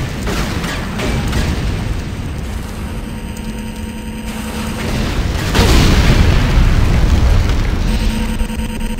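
A heavy, rumbling explosion as a Nod obelisk is destroyed in the Renegade game, a loud sustained roar that swells midway and keeps booming with no speech over it.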